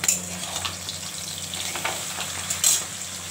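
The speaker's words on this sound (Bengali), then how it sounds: "মাছ ভাজা হচ্ছে" Pabda fish fry in hot oil in a pan, a continuous close sizzle with crackling bursts and a brief louder spit near the end, with no voices.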